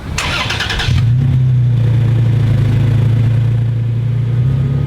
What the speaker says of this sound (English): Now here's a clip of the truck starting up